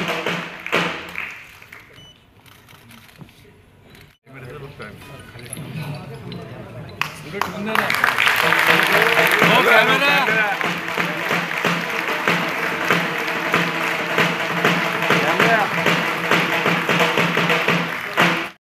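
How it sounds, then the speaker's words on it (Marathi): Applause at a public honouring ceremony starts quietly, then swells into sustained, dense clapping that runs on steadily. A voice speaks over it. "जास्त टाळ्या वाजल्या पाहिजेत."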